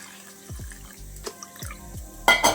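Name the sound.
washing flattened rice (chira) in water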